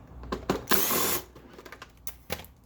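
Cordless power drill backing screws out of the plastic body panels of a Rosso electric ATV Model T, short whirring bursts with a longer sustained run, close and moderately loud, with no talking.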